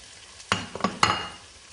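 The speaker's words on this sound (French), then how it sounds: "Maintenant, je vais ajouter les tomates cerises coupées en 4." Quartered cherry tomatoes drop into a pan of hot oil with shallot, giving a few short clattering sizzles and stirring scrapes that fade into a faint background fry.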